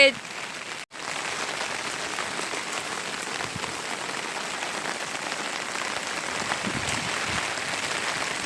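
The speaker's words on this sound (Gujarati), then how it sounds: "આમ વરસાદ ચાલુ છે" Rain falls in a steady, even patter that fills the whole stretch, broken only by a brief dropout near the start.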